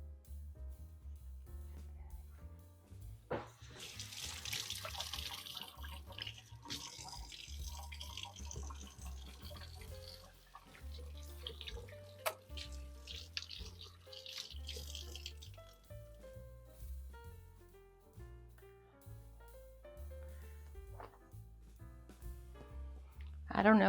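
Water runs from a kitchen tap while hands are washed during cooking, a steady splashing trickle that continues throughout. Faint clinks and a murmur of talk sit over the running water.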